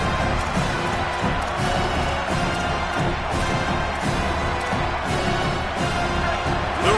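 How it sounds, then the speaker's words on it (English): A stadium crowd roars at a football game, a broad continuous wash of cheering and shouting that stays loud and even throughout, with a commentator talking over it. "The roar of the crowd trying to fuel this defense to keep them pinned in their own end."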